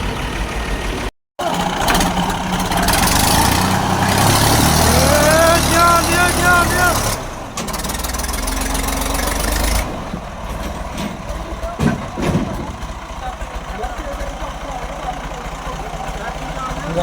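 A crane and an old-model tractor run at a construction site where a pillar pit is being dug, their engines droning loud and steady with metallic clanks and shifts, while people talk over the machinery.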